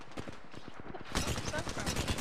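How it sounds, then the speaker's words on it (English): Gunfire aimed at the player in a video game: rapid rhythmic bursts of shots, first a steady popping string, then a louder, denser volley that breaks out midway and keeps going, with a voice talking over it. "Oh, someone's shooting at me."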